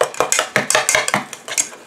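A homemade hair conditioner mixture being stirred in a container, a quick run of clinking, scraping strokes in steady rhythm, close and fairly loud.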